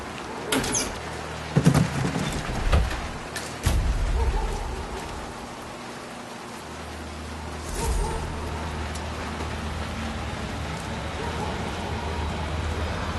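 Rain falls in Hitman 3, a continuous wash of drops under the whole stretch, with a few louder knocks and rumbles near the start and another around the middle.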